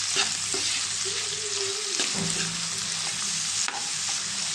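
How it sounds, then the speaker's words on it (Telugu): Onions frying in a pan with turmeric and salt, a constant loud hiss of sizzling oil with occasional scrapes and clicks of a spoon stirring, close and with no one speaking. "ఉల్లిపాయలు కూడా బాగా ఫ్రై అవ్వాలి"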